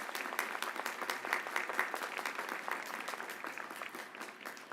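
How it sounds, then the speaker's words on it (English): Audience applause at a university graduate and doctoral commencement ceremony, a dense, steady wash of many hands clapping at moderate level with no talk over it. "let's give him a round of applause"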